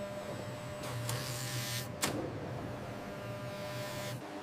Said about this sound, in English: Automated cutters slice through the layers with laser-like precision.